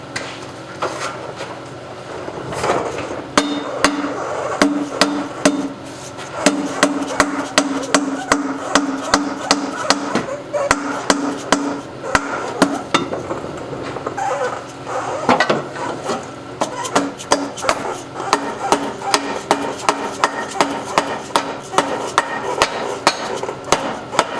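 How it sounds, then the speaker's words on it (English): A hammer strikes an engine part repeatedly during a Subaru BRZ engine install, sharp metallic whacks coming in quick, fairly regular succession, loud and close over a steady background hum. "I'm just gonna give it a whack or two"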